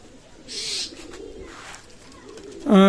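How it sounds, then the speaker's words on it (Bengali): Madras pigeons coo softly in the foreground with a brief rustle, then a sharp higher birdcall bursts in loudly at the very end. "অসাধারণ কবুতর অনলি ম্যাড্রাস কবুতর"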